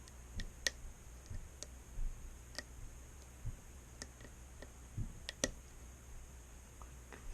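A lock pick clicks against the pins of an ABUS 74/40 lockout padlock, a scattering of faint, sharp, close ticks at irregular intervals over a quiet background.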